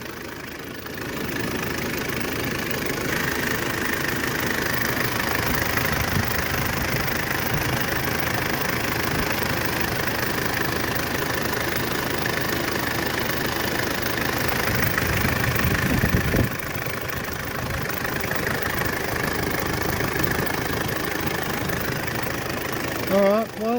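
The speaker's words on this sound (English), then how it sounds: "It's a very smooth sounding motor." Mitsubishi L400 Delica Spacegear engine idling steadily, a low, even mid-pitched hum with a faint rhythmic knock that holds for about twenty seconds, one brief dip near the end, while voices talk over it.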